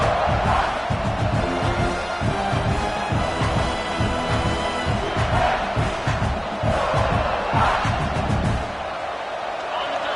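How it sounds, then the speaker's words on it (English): A full stadium crowd roars and cheers in the College Football 26 video game at a South Carolina vs Ole Miss game, a loud, dense, continuous wall of noise with swelling shouts throughout. "This crowd, full throat, splitting the eardrums and letting them know it's going to be a long day"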